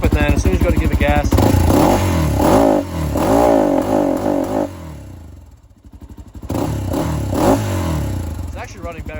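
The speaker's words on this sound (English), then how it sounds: "you can see it's like bogging when you give it full throttle, and it just shuts off" A Honda 400EX ATV engine revs and bogs down at full throttle, its pitch rising and sagging in uneven surges, then drops away and picks up again, loud and close, with a person talking over it.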